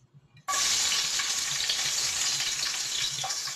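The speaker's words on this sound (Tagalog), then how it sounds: "gisa na natin ating syempre bawang" Garlic hits a hot pan for a Filipino pinakbet and starts sautéing: a sudden loud sizzle that holds steady and close for several seconds, with faint stirring under it.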